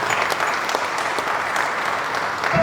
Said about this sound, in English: Please, again, a round of applause.